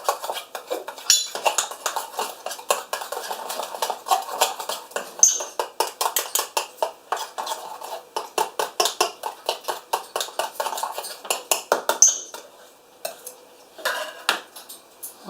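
Metal knife stirs and scrapes pork ball batter of flour in a mixing bowl, a quick run of rhythmic clinks and scrapes with brief pauses, close and fairly loud throughout.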